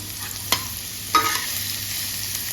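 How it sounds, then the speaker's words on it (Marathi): Onions fry in a pan for a javla dried shrimp recipe, a quiet steady sizzle with two brief scrapes or clinks of a stirring utensil, close by and without talk. "आणि तो पण लालसर आपण कांदा करून घ्यायचा आहे"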